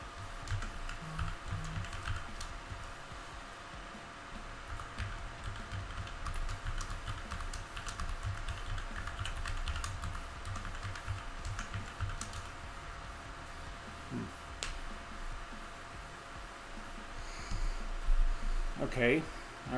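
A computer keyboard clicks as a password is typed, keystrokes landing in quick irregular bursts at close range over a faint steady background hum.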